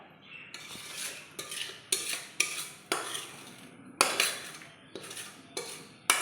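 A metal pot of sweet, sour and spicy mango pickle is lifted off the stove, giving a series of sharp, close clanks and scrapes that come at an irregular rhythm about every half second.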